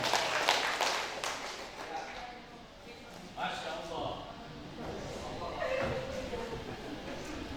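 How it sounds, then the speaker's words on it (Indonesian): Audience applause at an Indonesian education event, a sustained patter of many hands clapping throughout, fairly close and steady, with some speech mixed in. "Kita langsung saja beri tepuk tangan yang meriah untuk Pak Dian Supriyadi."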